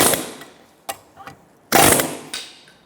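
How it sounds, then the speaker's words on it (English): A chisel is hammered against a Mazda 3 front lower control arm bushing in a few sharp metallic strikes, two louder blows standing out among fainter knocks, with quiet gaps between. "Now we're going to chisel it off."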